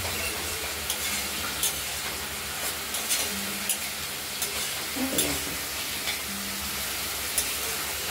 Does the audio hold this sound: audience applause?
no